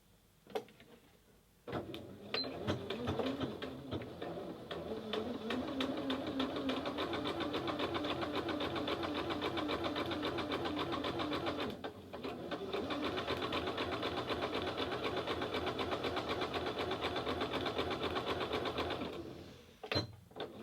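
Sewing machine stitching test lines with shirring elastic, a steady rapid mechanical chatter running close and clear for most of the stretch, briefly pausing midway before resuming, then stopping near the end.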